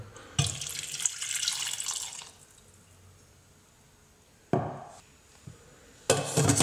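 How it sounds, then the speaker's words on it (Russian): Water poured from a tap into a pot holding six onions, heard in a few loud bursts of splashing flow separated by quieter pauses, with faint kitchen clatter between them. "И заливаем 250 миллилитров воды."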